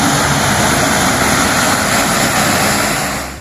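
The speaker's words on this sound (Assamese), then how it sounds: "অৱতৰণ কৰিছে বিশাল কাৰ্গো বিমান।" A large cargo plane lands on a national highway emergency landing strip at Moran, Assam, during an air force exercise. Its engines give a loud, continuous roar that fills the whole clip and eases slightly toward the end.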